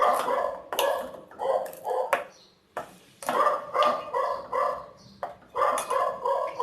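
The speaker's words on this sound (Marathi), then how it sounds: "ती आज जरा जास्तच भुंकत आहे।" Dog barking repeatedly nearby in a home kitchen during cooking, loud sharp barks in bursts with short pauses between them.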